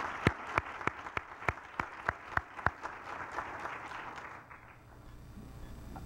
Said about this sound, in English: Let's give our fellows a round of applause.